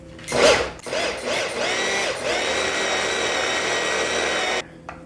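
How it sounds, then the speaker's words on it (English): A food processor whirs loudly and steadily for about four seconds, pureeing tahini and chickpeas into hummus. It starts with a brief burst, then settles into a sustained motor drone before cutting off abruptly. "I'm gonna put my lid back on there, puree it for just a few seconds"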